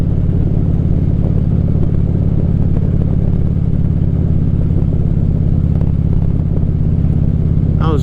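Steady, loud low engine drone of a motorcycle on a ride, a constant throbbing rumble with wind noise that holds evenly throughout, with a brief faint higher sound near the end.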